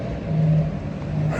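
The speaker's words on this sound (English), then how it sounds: "Apologies for all the cars and motorcycles, people trying to flex as per usual." Passing car and motorcycle traffic on a city street, a steady engine rumble with a faint rising hum, fairly close by.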